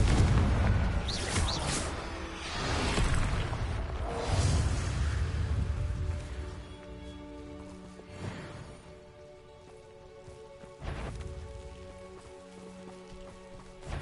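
Confringo blasting spell in Hogwarts Legacy, a loud burst with booming low rumble and crackling debris at the start, then a fading tail with a few sharper impacts and magical tonal hums later.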